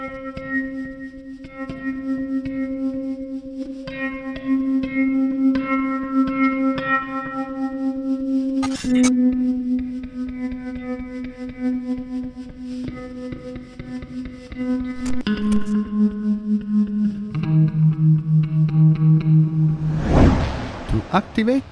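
An electric guitar is played through an XPick Slappers volume delay effect, alternating plain and echoing passages of sustained notes with rhythmic slapped attacks, close and loud, ending in a noisy burst.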